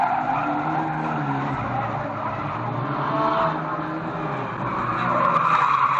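Race cars at Fleet Raceway roar past in a sustained loud rush, engines droning with tire noise swelling and fading, at an Old Boys meeting in 2005.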